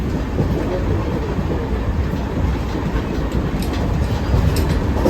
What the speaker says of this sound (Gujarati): આ છે અમારી ટ્રેન